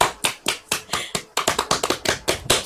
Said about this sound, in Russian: Еще один хлопок.